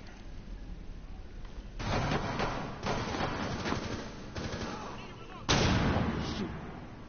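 Gunfire in Rainbow Six Siege terrorist hunt with pistols only, heard as several separate muffled bursts of shots spaced a second or so apart, with one sharper, louder burst near the end, over low background game noise.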